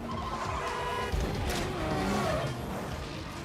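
Race cars sweeping through a wide turn on city streets, engines roaring continuously with tire squeal and skidding mixed in, loud and close throughout with a brief sharper burst midway.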